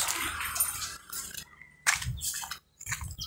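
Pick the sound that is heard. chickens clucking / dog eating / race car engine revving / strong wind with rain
dog eating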